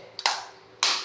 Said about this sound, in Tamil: ரெண்டு கையும் ஒன்னா வச்சு தட்டு தட்டு